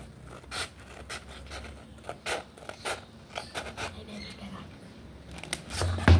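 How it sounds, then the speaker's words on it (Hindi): Scissors snip through a measured decorative craft sheet in a string of short, close, crisp cuts, irregular in rhythm and fairly quiet, with faint room noise and soft voice sounds between them. "सीज़र से की मदद से मैं अब इसको काट रही हूँ"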